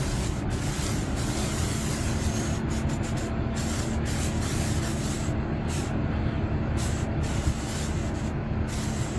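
Fire hose blasting water onto a burning bus at New Hampshire, a continuous loud hiss and rush of spray with steady rumbling beneath and brief dropouts in the upper hiss.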